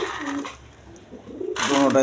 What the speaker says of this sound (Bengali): এক পেয়ার ব্ল্যাকলেস শার্ডিং কবুতর আছে দেখেন নিউ অ্যাডাল পেয়ার